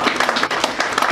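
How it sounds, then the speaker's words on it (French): An audience at an official ceremony claps for the secretary general as he comes to give his speech, a brief, fairly close burst of many hands clapping with no voices over it. "Sous vos applaudissements encore"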